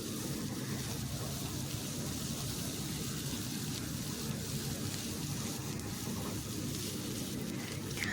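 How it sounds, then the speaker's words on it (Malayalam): Sliced onions are stirred into chicken cooking in a pan for Kerala-style chicken bonda filling, giving a steady, dense frying sizzle that hisses evenly throughout without pauses or voices. "അപ്പോൾ നമ്മൾ ആ സവാളയും കൂടി ഇട്ട് നല്ലവണ്ണം ഒന്ന് ഇളക്കിയെടുക്കാം"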